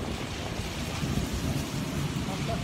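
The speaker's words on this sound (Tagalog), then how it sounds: "Medyo maulan po. Pero okay lang naman." Steady rain falls during a road trip through Ilocos Sur and Ilocos Norte, a dense, even hiss with low rumbling underneath that continues without a break for a few seconds.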